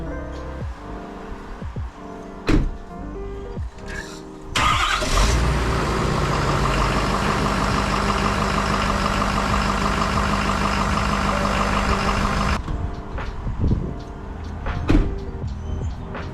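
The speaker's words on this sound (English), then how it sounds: "Let's go ahead and fire up, see how they start." A tow truck engine on E3 LiFePO4 lithium iron phosphate batteries cranks and fires. The motor roars up to a steady loud idle that runs for about eight seconds and then cuts off, with clunks and clatter before and after.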